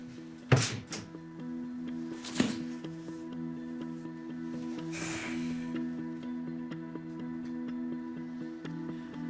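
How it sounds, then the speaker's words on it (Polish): A door is shut indoors with a sharp thunk, followed by a second quieter knock a couple of seconds later, both close, set against a steady electrical hum in a quiet room. "Możesz zamknąć drzwi?"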